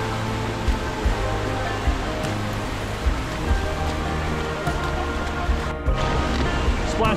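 Waterfall at Rock Island State Park, heard from a canoe as a continuous loud rush of falling water with a few low thumps.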